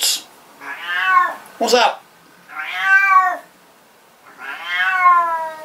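A cat meows repeatedly indoors, three long drawn-out close meows with pauses between them, while someone speaks briefly to it between the calls.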